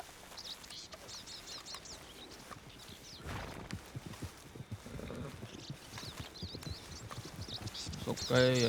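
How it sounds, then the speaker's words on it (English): Horse hooves clip-clop along a road outdoors, a steady rhythm of moderate hoof strikes with birds chirping in the background and people talking nearby over the sound. "I hear horses."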